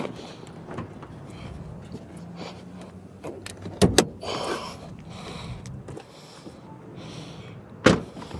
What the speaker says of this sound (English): I'm gonna go ahead and pop the hood